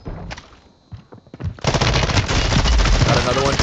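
Machine gun fire in the battle royale shooter Warzone III, opening with a few scattered shots before a loud, sustained rapid burst of automatic fire that runs to the end, close and dense.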